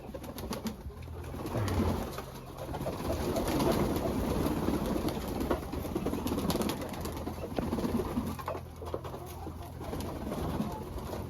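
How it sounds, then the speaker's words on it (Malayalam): Temple pigeons coo repeatedly in soft, throaty bursts, nearby and overlapping, with a little wing flutter and background hum, no one speaking. "അത് ഈ പുറത്തുള്ള അമ്പലത്തിലെ പ്രാവുകളാണ്"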